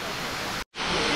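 Steady rushing roar of the Na Muang waterfall on Samui, heard from the front at the steps, broad and continuous with a brief dropout in the middle.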